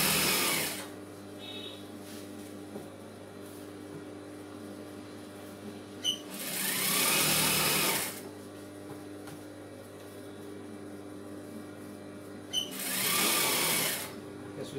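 Sewing machine stitching a fall onto a saree, two loud bursts of rapid whirring stitching separated by a quiet hum, close up with no talk.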